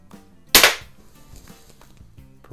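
A Crosman 22 caliber multi-pump pellet pistol fires a single sharp, loud crack, followed by a brief faint rattle and a quiet background.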